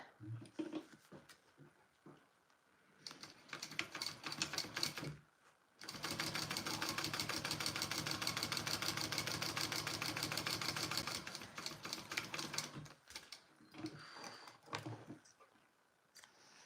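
A sewing machine top stitching a bag, its needle running in a fast, steady whirring burst lasting several seconds, with shorter start-and-stop runs and handling sounds before and after, close but soft.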